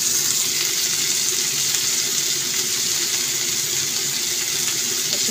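Carrots, beans and capsicum fry in a pan with a steady, close, hissing sizzle that holds even throughout, with no talking.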